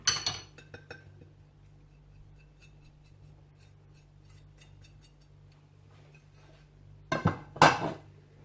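Spices for chargha biryani (black pepper, cumin powder, red chilli, garam masala, salt, food colouring) mixed in a bowl, with a sharp burst of clinking at the start, faint scattered taps through the middle and a louder clattering flurry near the end.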